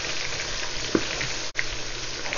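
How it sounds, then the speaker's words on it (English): Steady sizzling of mackerel frying in hot oil, a close, continuous crackle with a few small pops. "See, it's frying very fast because we removed the water."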